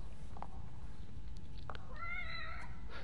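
A cat meows in The Evil Within DLC video game, one clear drawn-out wavering meow in the second half over a steady low background hum, with faint softer sounds earlier.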